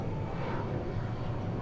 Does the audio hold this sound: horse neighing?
no